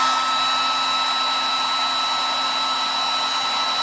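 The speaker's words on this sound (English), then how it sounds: "what I'm going to do is get my hair dryer again" Hair dryer blowing steadily on fresh house paint, a loud continuous whir with a fixed high whine, close and uninterrupted with no talking.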